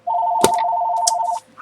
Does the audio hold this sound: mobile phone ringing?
yes